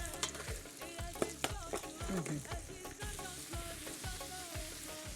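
Onions sizzle in a pan while a utensil scrapes and stirs in repeated strokes, close and fairly loud, with no talking.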